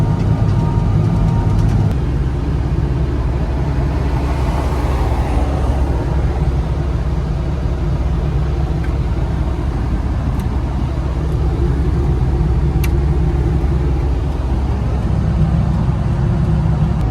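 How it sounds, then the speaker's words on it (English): Wheel loader plowing snow on a ranch after a blizzard: a loud, steady diesel engine drone heard from close by, with heavy low rumble and mechanical hum running unbroken for the whole stretch. "I'm gonna hop in the loader and plow some more feed grounds."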